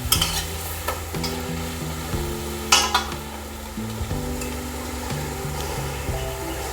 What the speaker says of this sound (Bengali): যেমন আমরা বেগুনি ডুবাই, বেগুনি বানাই, তেমনি এইভাবে ডুবিয়ে তেলে ছেড়ে দিবেন।